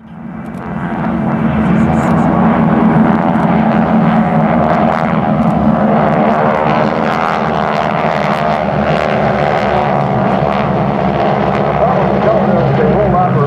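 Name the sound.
World War II aircraft flying low at an airshow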